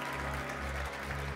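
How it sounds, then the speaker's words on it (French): Steady applause from a press conference audience for the Class 40 sailing crews of the Transat Jacques Vabre Normandie-Le Havre 2021, dense clapping over a low, constant hum. "on vous applaudit très très fort"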